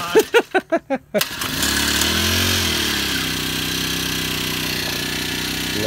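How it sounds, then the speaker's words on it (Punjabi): A handful of sharp rhythmic bursts give way to a small crop spray pump engine in a wheat field running at a steady, loud, close drone that continues to the end. "ਬੜਾ ਵਧੀਆ ਤੇ ਬੜਾ ਜਦੀਦ ਤੇ ਬਿਹਤਰੀਨ ਇੰਜਣ ਲੱਗਿਆ ਇਹਨੂੰ"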